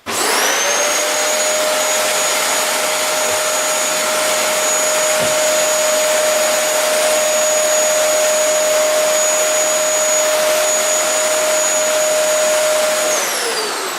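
A Kirby vacuum cleaner runs steadily with its hose attached, a loud, constant whine with a high tone that holds for the whole stretch and fades slightly at the end, with no talking.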